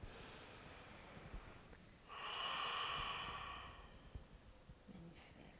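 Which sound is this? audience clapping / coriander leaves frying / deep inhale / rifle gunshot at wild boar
deep inhale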